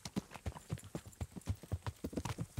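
Soldiers' horses in Kingdom Come: Deliverance walk with a quick, fairly regular clip-clop of hooves. The steps are crisp, moderately close but quiet overall, and no one speaks over them.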